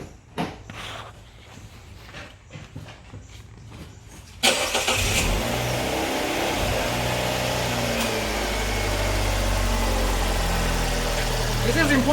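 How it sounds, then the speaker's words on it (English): After a quiet stretch with some clicks, a Fiat 500 engine starts after an oil change and then idles steadily, a low continuous rumble that lasts to the end. "This is important that you let the engine run"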